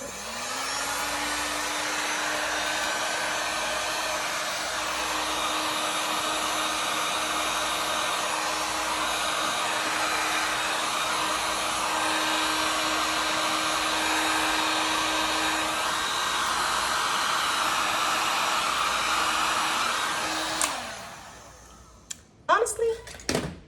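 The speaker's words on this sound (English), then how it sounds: "let's just see what the heat gun does." A heat gun blows over an acrylic pour painting with a steady, loud whooshing roar and a constant motor whine for about twenty seconds, then cuts off and winds down, followed by a few clicks.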